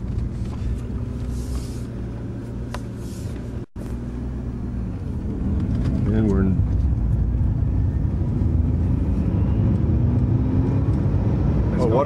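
A Ford GT40 race car engine drones loudly from inside the cockpit, a low rumble rising in pitch as it accelerates, with a whining tone over it.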